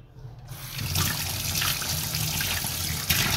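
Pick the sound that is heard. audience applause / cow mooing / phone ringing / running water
running water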